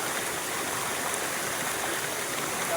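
A waterfall pours steadily onto rocks, producing a continuous, full rushing wash of water that stays even and close throughout with no voices.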